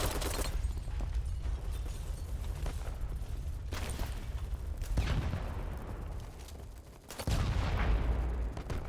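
Gunfire in the shooter game BattleBit Remastered, with repeated loud bursts and sharp reports cutting in and out over a dense rumbling mix, no talk heard.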